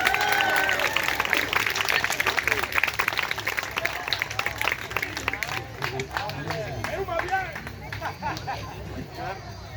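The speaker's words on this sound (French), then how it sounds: "On peut les applaudir." Crowd applauding at a medieval festival after a trebuchet crew finishes, sustained dense clapping with cheers and babble of voices throughout, loud and fairly close, easing slightly toward the end.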